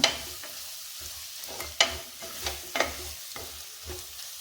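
Chicken semi-gravy frying in a pan, stirred now and then: a steady sizzle with several sharp scraping stirs at intervals, close and moderately loud, no talking.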